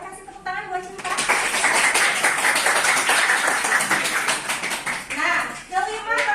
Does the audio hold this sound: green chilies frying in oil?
no